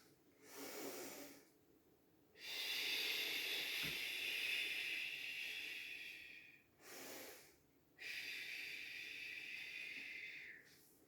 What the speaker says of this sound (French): on verrouille et on inspire et on expire